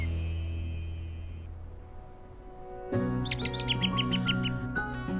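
Pet birds chirp inside a smart bird cage, their bright, quick tweets rising in a rapid series over a steady indoor hum and background music.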